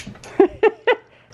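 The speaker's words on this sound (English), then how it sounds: "All the dogs want to go with me." Dogs eager to go out give three short, evenly spaced yelps or whines, close and fairly loud.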